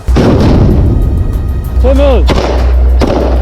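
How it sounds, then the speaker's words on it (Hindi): Israeli Golani Brigade bombardment of a Hamas position in Gaza: sharp blasts and gunfire-like bursts punch through a loud, continuous low rumble, with a voice briefly heard in between. "गोलानी ब्रिगेड की हमास ठिकाने पर बमबारी का ये वीडियो इजराइल की सेना ने जारी किया।"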